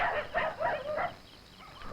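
Native street dogs bark in a quick run of four or five loud, close yaps, then the noise trails off into quieter background.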